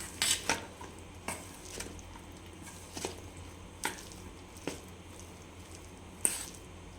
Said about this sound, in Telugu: ఇప్పుడు మొత్తం కలిసేటట్టు బాగా కలుపుకోవాలి.